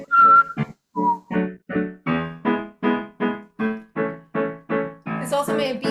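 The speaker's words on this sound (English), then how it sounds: "Most individual whistle solos in a single Zoom call." A person whistles a short melodic solo during a Zoom call, a string of clear, close, even notes in a steady rhythm, ending in a brighter, breathier phrase.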